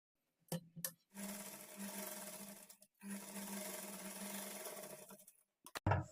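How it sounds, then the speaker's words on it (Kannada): A sewing machine lays a topstitch along the folded edge of a blouse back neck, running in two quiet, steady bursts separated by a short pause, with a few small clicks at either end. "ಈ ಥರ ಫೋಲ್ಡ್ ಮಾಡಿ ಮೇಲೆ ಒಂದು ಟಾಪ್ ಸ್ಟಿಚ್ ಹಾಕ್ಕೊಳ್ಳಿ"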